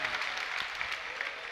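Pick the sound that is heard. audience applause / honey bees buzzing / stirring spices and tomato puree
audience applause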